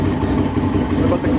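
A vehicle engine running after being restarted while a suspected electrical fault that cuts it off is checked, a steady loud low idle rumble heard close, with a voice talking over it.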